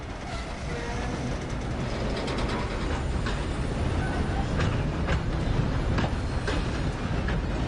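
A train in the video game Red Dead Redemption II rolls along with a steady, loud mechanical rumble, with sharp clanks and rattles of the cars recurring throughout.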